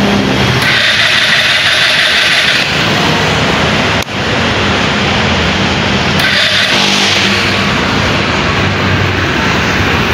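A Motor Star CL 150 EFI air-cooled motorcycle cranks and starts, then settles into a loud, close, steady idle with a few small revs.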